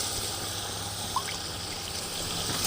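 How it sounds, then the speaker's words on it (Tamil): Water pours steadily into a pot of mutton biryani rice, a continuous close trickling and splashing with no talk. "இந்த மாதிரி தண்ணி ஊற்றலாம்."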